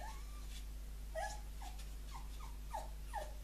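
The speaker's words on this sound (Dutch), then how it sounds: "die hondjes buiten zijn niet om mee te spelen" Dogs outdoors whimper faintly in a series of short, high, whining yelps spaced irregularly, distant beneath a steady low hum.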